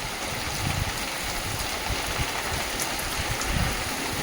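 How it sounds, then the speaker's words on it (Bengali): Heavy rain during a storm pours down steadily as a dense, loud, unbroken wash of noise with a low rumbling undertone, continuous throughout and without any voices. "যেমন ঝড় আর তেমন বৃষ্টি"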